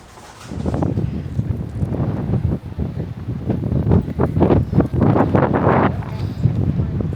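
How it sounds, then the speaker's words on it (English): Strong gusts in Busan, South Korea buffet the microphone in low, rumbling waves that rise and fall throughout, with faint voices partly buried beneath. "It's so windy, but it is gorgeous."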